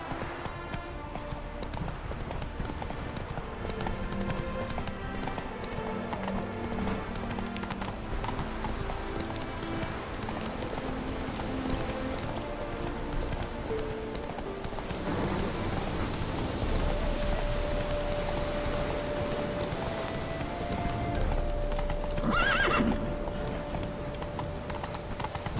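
Roach, a horse in The Witcher 3, gallops with steady clip-clop hoofbeats throughout, then gives a sharp whinny near the end over a continuous game-world backdrop.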